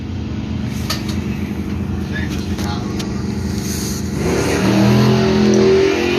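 Chevrolet Cavalier drag racing at Music City Raceway, a steady loud engine drone with a rise in pitch and volume near the end as the car pulls away, with an announcer's voice heard over it.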